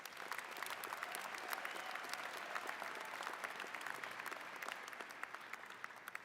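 A large university commencement crowd applauds parents and family members, sustained clapping spread wide and held at an even level for several seconds.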